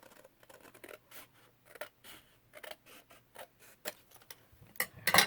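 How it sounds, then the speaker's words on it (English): Scissors snip through a paper library card pocket along its score line, a series of short, quiet crisp cuts with pauses, ending in a louder cluster of snips. "So we want to cut on the inside of the score."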